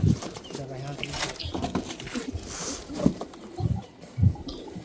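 Pigeons coo softly in a loft, low murmuring calls recurring every second or so over a busy background of rustling and voices talking nearby.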